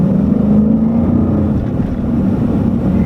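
Steady low rumble of a Jeep Grand Cherokee SRT8 with a Hemi V8, a continuous engine drone close by with some wind noise, no talking.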